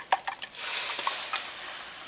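Egg sizzling in a hot wok for fried rice, a steady hiss rising right away, with a few utensil clinks and scrapes at the start.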